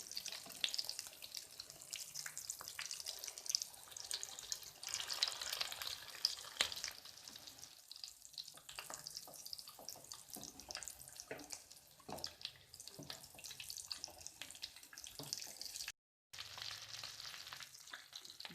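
Aloo keema kebabs frying in a pan, a steady close sizzle with occasional clatter and water-like hiss running throughout, with a brief dropout near the end and no talking.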